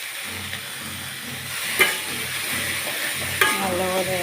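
Chopped ponnanganni spinach stir-fries in a pan with a constant close sizzle, broken by two distinct knocks of the stirring spoon against the pan.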